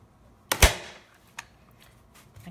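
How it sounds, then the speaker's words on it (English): A staple gun fires into stretched canvas: one sharp, loud snap followed by a shorter, fainter click a moment later, indoors and alone with no talking. "this is just a staple gun"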